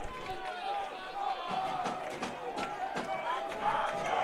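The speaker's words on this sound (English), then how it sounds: "Crowd really into it here on 1st and 10 from the 31." Stadium crowd roaring throughout a simulated Division III college football game, Carnegie Mellon at Muhlenberg, in NCAA Football 2025, a steady far-off wash of cheering with a few sharper swells, heard under commentary.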